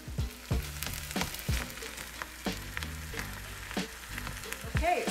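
Ground turkey seasoned with pepper sizzles and fries in a pan, a steady close crackle broken by repeated scraping and stirring strokes, with no talking over it.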